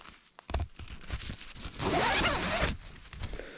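A hammock's zipper is pulled open close by, a long raspy zip lasting about a second, with small fabric rustles and clicks around it.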